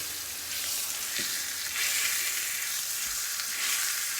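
Steak for fajitas sears in a hot pan with a steady, close hiss of frying, and a few small pops and crackles break through the sizzle. Nobody speaks.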